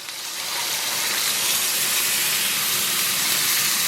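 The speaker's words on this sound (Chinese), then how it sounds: "炒香以后，咱们给里边来点凉水" Cold water hits a hot wok of stir-fried beef and sets off a loud, steady sizzling hiss that builds in the first half second and then holds strong and even.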